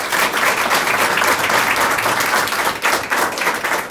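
Audience at a camera club print show judging event gives a sustained round of applause for three invited judges, dense steady clapping filling the room from start to finish.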